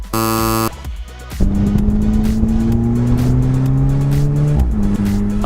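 An Alfa Romeo 4C sports car accelerating hard, its loud engine note climbing steadily in pitch, shifting gear and climbing again, close and continuous with no talk.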